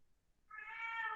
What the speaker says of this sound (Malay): Ada kucing pula masuk dalam bilik nak belajar juga.